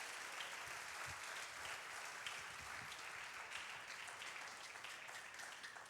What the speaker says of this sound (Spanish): Dele un fuerte aplauso al Señor si usted cree que usted es un escogido.